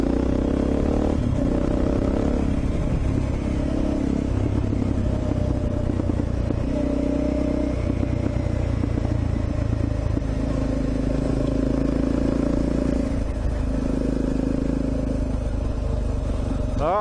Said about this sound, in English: Ah, the joy of motorbikes